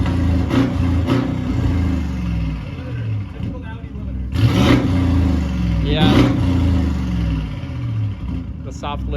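A 2020 Audi SQ7 engine revs up in short rising bursts toward its soft limiter, with a steady cabin drone underneath and people talking over it.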